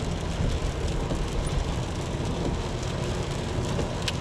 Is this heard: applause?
no